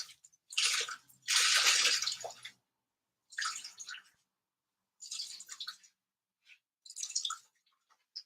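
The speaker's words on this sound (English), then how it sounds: "So that's water squeezed out of the next chunk of fibre." Water gushes and drips in uneven bursts as a wet chunk of fibre is squeezed out by hand, with quiet pauses between squeezes.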